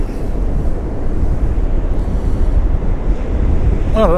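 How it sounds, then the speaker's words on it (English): Large ocean waves surge onto the East Coast shore at Easington at night, a continuous loud roar of surf mixed with heavy wind buffeting the microphone. "They're massive waves coming in."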